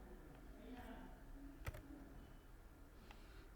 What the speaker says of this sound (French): j'appuie sur ce signe sur le clavier